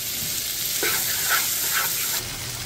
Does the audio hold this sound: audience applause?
no